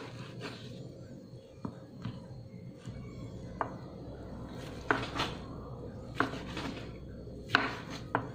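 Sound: knife chopping tofu into pieces

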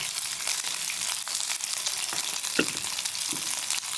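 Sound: chicken wings frying in oil

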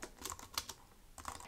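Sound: typing on a computer keyboard

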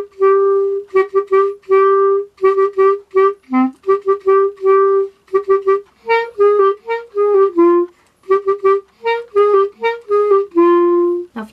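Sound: woodwind playing RM's part

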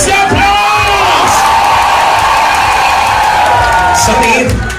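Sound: crowd cheering and applauding at birthday event

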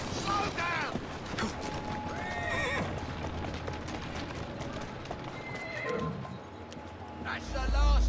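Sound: horse neighing in a video game

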